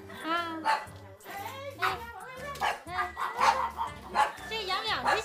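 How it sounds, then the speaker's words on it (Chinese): Several small pet dogs bark and yip in quick, overlapping bursts close by at a woman's home, while adults talk over them throughout. "养这么多小狗呢"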